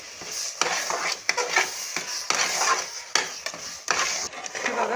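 A spoon scrapes and stirs sweet lentil puran filling with cardamom and dry ginger powder in an oiled pan, giving steady close rubbing and clinking strokes in repeated bursts, with no talk.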